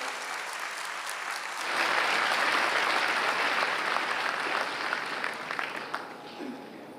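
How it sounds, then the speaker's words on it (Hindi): Loud, sustained applause from an audience welcoming pilgrims who walked 1,400 kilometres, swelling after a quieter opening and continuing steadily, then tapering near the end. "बहुत जोरदार तालियां इनके लिए"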